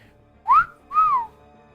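Two short, clear whistled notes from a person, each sliding up and then down, close and distinct against near silence.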